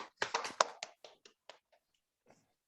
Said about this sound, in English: Give him ovation by clapping hands.